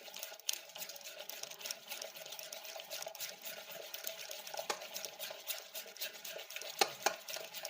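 Bajra flour batter mixed with vegetables such as chilli, carrot and cabbage is stirred in a bowl, giving faint, continuous wet scraping and slapping with a few sharper utensil clicks.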